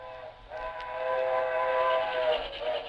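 Train whistle sounding one long, steady multi-tone blast, loud and fairly close, with a faint low rumble underneath and no talking.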